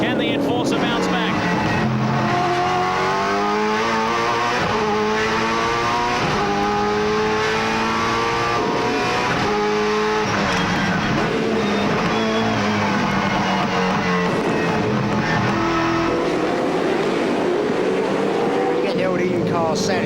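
V8 Supercar race car engines at Barbagallo scream loudly and continuously, shifting pitch as the cars accelerate and pass, while a commentator talks over the roar.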